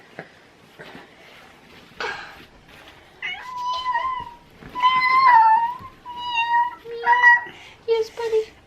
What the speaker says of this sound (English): You're a little kitty cat.